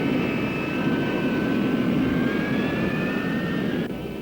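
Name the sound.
North American F-100 Super Sabre jets leaving revetments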